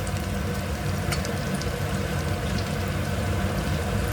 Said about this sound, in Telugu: ఇప్పుడు మనం మటన్ అనేది వేసేద్దాం